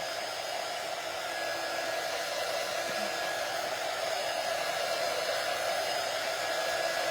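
A hair dryer blows steadily on painted brown boots, a continuous close whooshing hum with no breaks.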